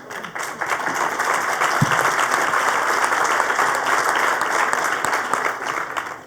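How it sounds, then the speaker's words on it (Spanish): A public dialogue audience applauds steadily and loudly for the full stretch, a dense wash of clapping with no speech over it. "el aplauso quiere decir que coincidimos"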